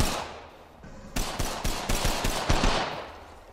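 Sustained automatic gunfire in Apex Legends, a steady string of sharp shots at an even rhythm, fairly loud and close with no talking.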